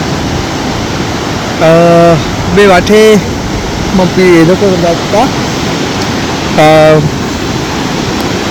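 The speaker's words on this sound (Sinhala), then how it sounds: "මේ රිවේක සෑහෙන වතුර වලින් පිරලා තියෙන වෙලාවක්" Flooded river rushing past on New Zealand's South Island West Coast after heavy weather, a steady loud broadband roar of water running under someone talking in bursts.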